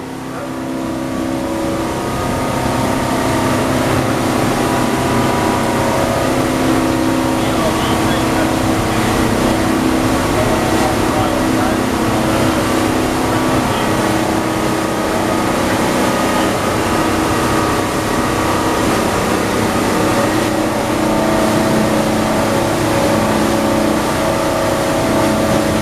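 A Grady 33 motorboat engine runs steadily and loudly throughout a trial run, a constant droning roar with a low rumbling tone and no pauses.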